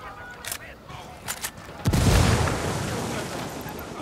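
A frag grenade detonates in Ghost Recon Wildlands with a loud, close boom that rolls into a sustained rumbling tail, preceded by a few sharp gunshots.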